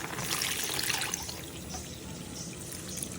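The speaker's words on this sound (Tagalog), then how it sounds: "dagdagan natin ng tubig" Water poured into a pot of chicken tinola with chayote and moringa leaves, a soft, continuous trickle and splash heard fairly close, with no talk.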